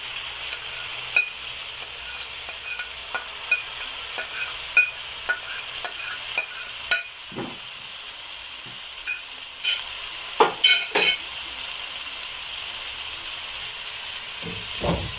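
Grated garlic and ginger frying in a pan with tomato, a steady hiss of sizzling oil with regular spoon taps and scrapes as it is stirred, close up, later settling into a continuous sizzle with no talking.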